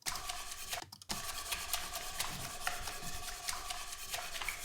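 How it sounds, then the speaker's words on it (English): Dishes being washed up by hand at a sink, a continuous close scratchy, rasping rub with splashy clinks and small transients, a brief drop near the first second, then steady scrubbing to the end, no voices. "this washing up is all quite interesting high frequency sound"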